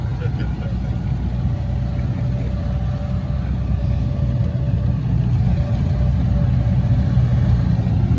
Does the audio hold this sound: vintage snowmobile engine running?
yes